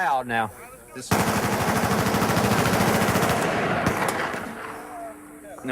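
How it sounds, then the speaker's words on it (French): Rapid automatic bursts from an M16 rifle, loud and close, a dense rattling stream of shots lasting about three seconds, with voices briefly before and after. "avec un M16, une arme apparue à l'époque de la guerre du Vietnam et toujours utilisée par l'armée américaine"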